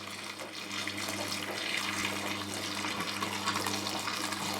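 Boiling water poured down a kitchen sink drain after cleaning barbecue grates gives a steady, close rush of flowing liquid for several seconds, with no talking.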